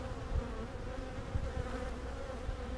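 Honeybees buzz steadily around an open hive frame of capped brood during a spring hive inspection, a continuous, even drone close by with no talking over it.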